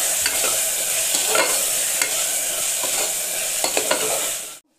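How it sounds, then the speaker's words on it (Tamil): Tomatoes sautéing with ginger garlic paste in a pan for double beans biryani give a steady, close sizzle, with stirring scrapes and light clicks throughout until the sound cuts off abruptly near the end. "இப்போ நம்ம வெட்டி வச்சுருக்க தக்காளியை இதில் சேர்த்துடலாம். இதையும் இப்போது தக்காளியை இப்போ நம்ம வதக்கிக்கலாம்."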